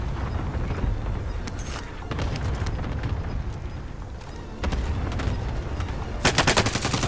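Cluster-strike explosions in a first-person shooter video game: dense, rolling rumble packed with rapid gunfire-like cracks, loud and continuous, swelling into a harsher burst of blasts near the end.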